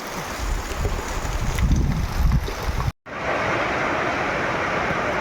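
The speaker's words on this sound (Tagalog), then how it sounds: "Sobrang lakas ng hangin at saka ang ulan" Strong wind roars steadily over the microphone with a dense hiss of heavy rain, briefly cutting out before resuming just as loud.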